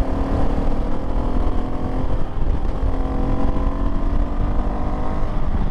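A modified KTM 690 Enduro single-cylinder motorcycle engine roars steadily at high revs, loud and close, with a continuous rough drone throughout.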